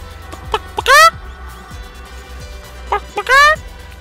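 Chicken clucking in the Guacamelee video game, two loud bursts of quick rising clucks and squawks close up, separated by short pauses.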